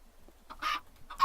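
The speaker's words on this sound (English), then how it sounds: "Chicken." Two short, close clucks from a Minecraft chicken in the video game, clear and alone, spaced about half a second apart.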